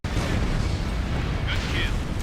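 Cruise missile blasts in a flight combat game make a dense, continuous roaring rumble from start to finish, with a voice talking over the din.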